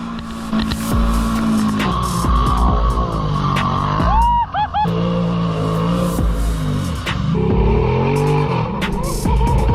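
A 450 dirt bike fitted with a CVTECH clutch rides toward a hole on a hill, its engine droning loudly and close with rising and falling revs and a sharp throttle blip midway.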